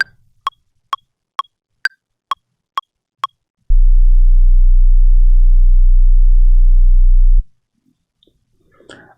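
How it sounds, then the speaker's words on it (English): A clean resampled sine wave meant as an 808 bass holds as a loud, pure low hum for about four seconds before cutting off sharply. A row of short metronome-like clicks precedes it. "So now we got our clean sine wave."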